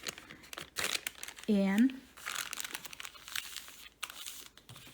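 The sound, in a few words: folding a paper lunch bag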